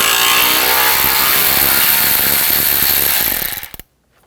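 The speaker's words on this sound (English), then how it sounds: "take these screws out on top" A ratchet or power driver with a T25 socket backs screws out of the top of the radiator area on a 2000-2006 BMW X5 3.0L inline-six, a loud continuous whirring rattle that cuts off after nearly four seconds.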